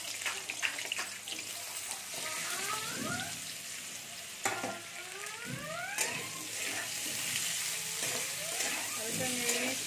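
Potatoes added gradually to hot oil in a pan, crackling loudly then settling into a steady close sizzle, with stirring clatter and some watery bubbling sounds mixed in.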